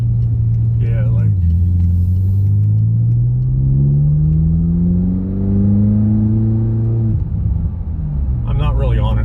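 A 2010 BMW X5 M engine pulling at partial throttle up to about 50, a loud, close droning rumble that rises steadily in pitch for several seconds, then drops off before a voice starts.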